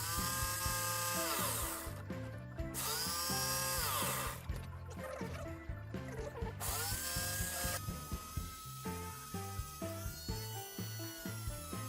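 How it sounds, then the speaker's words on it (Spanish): Angle grinder cutting the long side of a homemade cockpit panel for a flight simulator, a close, harsh whine that rises and drops in repeated bursts, then settles into a steadier, choppier grind. "utilizando la amoladora, veis cómo voy cortando un poquito el lado largo"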